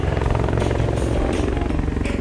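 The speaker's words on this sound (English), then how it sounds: "Coming in behind the crowd is the CH Huron flown by Panda." CH Huron heavy utility helicopter flying in behind the crowd at an airshow, a steady rotor thrum with a low pulsing beat, moderately loud and continuous.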